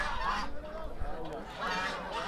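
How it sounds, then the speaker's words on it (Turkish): Poultry squabbling at an outdoor chicken market, with harsh honking, clucking calls in short bursts, close and loud over a busy background. "Evet, tavuklar arasında kavga var."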